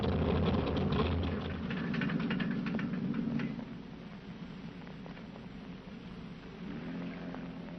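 Port engine of a World War II bomber at an English airfield, running with a steady, rough mid-low drone that stays loud throughout, easing slightly partway through with faint knocking ticks.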